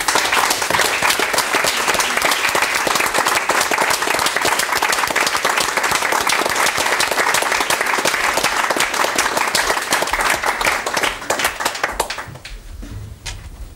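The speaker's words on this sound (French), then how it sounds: "D'abord, ils entrent, on les applaudit" Loud, dense applause from an audience welcoming musicians from Togo onto the stage, many hands clapping continuously for about twelve seconds before it quickly fades to quiet.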